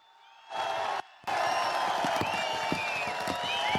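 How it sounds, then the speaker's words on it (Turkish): A large crowd at a CHP political rally in Bayburt, Turkey, bursts into applause and cheering, a dense roar of clapping with whistles and shouts that briefly cuts out, then resumes. "Buradan Cumhurbaşkanı adayımıza bir yürekten alkış alalım."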